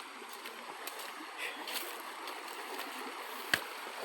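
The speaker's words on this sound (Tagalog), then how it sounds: "Dito na lang tayo dadaan sa sapa" A small creek runs with a steady, close rushing wash of flowing water, and a brief splash comes near the end.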